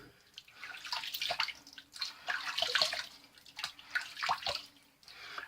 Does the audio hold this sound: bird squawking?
no